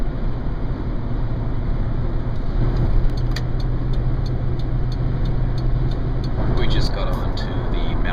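A car travels along the Mountain Parkway with a steady low engine and road rumble inside the cabin. Light jingling ticks sound now and then, and the drone stays constant and close.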